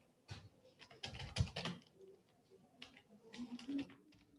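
Computer keyboard keys clatter in short irregular bursts during a MySQL installation on a Windows PC, ending with a firmer keystroke, fairly close and moderately quiet with no talk.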